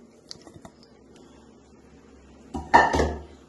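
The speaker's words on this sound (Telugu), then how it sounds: "చల్లారిపోయింది. పోపు వేసేసుకుంటాం." A cooled tempering tipped into traditional avakaya mango pickle: a few light metallic clinks, a quiet pause, then a short loud burst of pouring, squishing and clattering.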